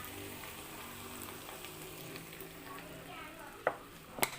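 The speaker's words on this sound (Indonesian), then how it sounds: "Selanjutnya kita goreng hingga berubah warna menjadi kuning kecoklatan." Chicken fries in hot cooking oil with a steady low sizzle, then two sharp clacks of stirring near the end.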